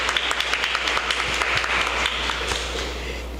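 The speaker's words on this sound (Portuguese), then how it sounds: "Vamos aplaudir então a palavra de Deus com todo o nosso coração." A congregation at a Catholic prayer group meeting in Cuiabá applauds warmly in a steady wash of clapping that slowly fades, with a low hum underneath.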